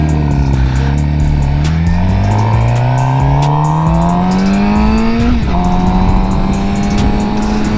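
Suzuki GSX-R750 sport motorcycle revving, its engine note climbing steadily in pitch over several seconds, dipping briefly, then holding a high rev, loud and close with no talking.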